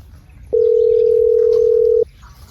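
A telephone dial tone sounds as someone places a call. A single steady, pure tone starts abruptly, holds loud and unbroken for about a second and a half, then stops cleanly over faint background noise.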